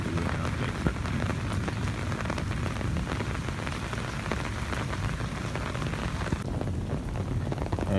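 Steady rain falls in a village during the monsoon, a dense, even hiss of drops on surfaces that holds close and loud throughout with no voices.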